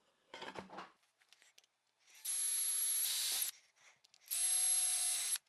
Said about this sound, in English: now I'm drilling on the bottom because I'm going up into the router